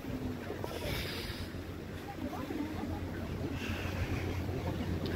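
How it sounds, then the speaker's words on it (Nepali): Strong wind buffets a high sky walk, a continuous rushing roar and heavy microphone rumble lasting throughout, with occasional louder gusts and faint voices in the background. "मस्त हावा चलेको छ"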